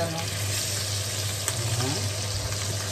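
Sausages fry in a hot pan with a steady, close sizzle and crackle, a low continuous hum underneath and a few faint scrapes.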